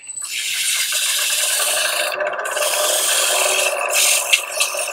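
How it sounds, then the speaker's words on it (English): Sandpaper scrubs over a handmade wooden box in quick back-and-forth strokes, a steady close rasping with slight swells in intensity and no talking. "I am going to sand it and wax it"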